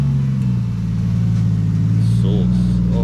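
A low, steady race car engine drone from a Toyota JZX100 with a triple clutch runs close by, with a brief rising rev in the middle as it shifts; voices talk over it.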